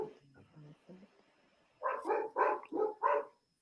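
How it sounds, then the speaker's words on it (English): Quiet talk comes first, then a dog lets out a quick run of five loud barks nearby during a night livestream. "they bark at the most stupidest, you know, stuff"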